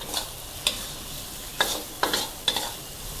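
Sweet leaf greens with egg and glass noodles stir-fried over high heat in an oiled pan, a steady sizzle punctuated by a handful of sharp scraping clacks of the spatula, close and without voices.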